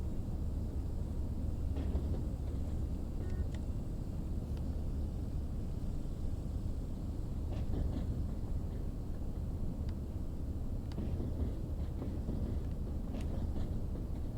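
Train running on the Mittenwaldbahn mountain route in a train simulator game, a steady, low rumbling drone with faint clicks and squeaks scattered through, constant and unbroken with no talk.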